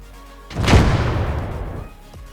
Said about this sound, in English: Spectacular explosion there.